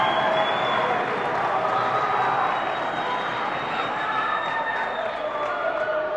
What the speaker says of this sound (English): the West Deptford crowd comes alive